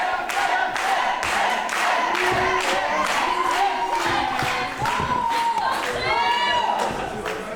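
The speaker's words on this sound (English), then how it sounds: "Crowd is trying to get behind their new tag team champion" A wrestling crowd cheers for a new tag team champion in loud, pulsing bursts of shouts and claps, with a commentator speaking over the noise.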